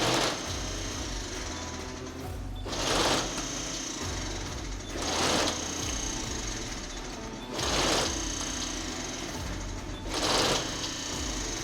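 A rebuilt rollstock packaging machine cycles to pull film into its loading area: a steady mechanical hum broken by four loud, evenly spaced clattering bursts, one roughly every two and a half seconds.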